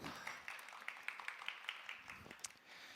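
An audience claps in a hall at a youth humanities talk-concert as the lecturer takes the stage, producing a steady, fairly close patter of light applause that stays even throughout with a few sharper claps.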